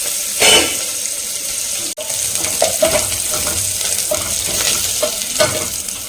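Onion, ginger and garlic sauté in a pan for a beetroot and carrot dish, giving a loud, continuous close sizzle with regular stirring scrapes and a brief clatter near the start.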